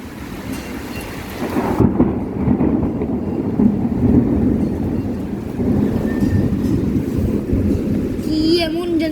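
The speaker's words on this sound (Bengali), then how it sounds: "এখানে বাতাস ছিনিমিনি খেলছে" Strong nor'wester storm wind sweeping a village with rain, a loud, sustained roaring rush that surges in gusts and holds throughout, with rain and thunder-like rumbling mixed in.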